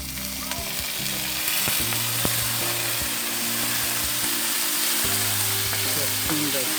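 Meat sizzles loudly in a hot pan over a wood fire as a little water is added, a steady hiss with occasional clinks and scraping of a utensil against the pan.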